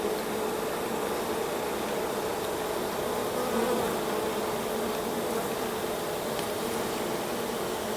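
Honey bees swarming around an open hive during an inspection, a dense continuous buzzing drone at steady loudness, close and enveloping, with no voices.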